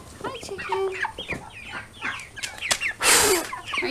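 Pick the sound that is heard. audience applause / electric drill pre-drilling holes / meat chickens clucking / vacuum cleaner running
meat chickens clucking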